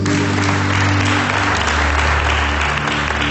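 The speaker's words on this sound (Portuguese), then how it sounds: "Você pode aplaudir Jesus?" Church congregation applauding together, a dense, steady wash of clapping that fills the whole stretch at full volume, with a low sustained hum beneath.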